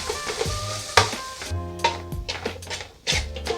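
Garam masala powder fries in hot oil in a pan as it is stirred, giving a steady sizzle broken by scraping stirs and clinks of the spoon, close and fairly loud.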